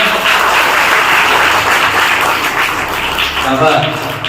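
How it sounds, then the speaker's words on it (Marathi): Audience applause at a birthday celebration for a school principal, a steady wash of clapping from a crowd filling the whole moment, with some voices mixed in underneath. "त्यांच्यासाठी तुम्ही टाळ्या वाजवा"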